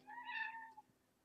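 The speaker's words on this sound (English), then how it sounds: "Cat." A single short cat meow, rising then falling, fairly quiet and heard alone against a silent background.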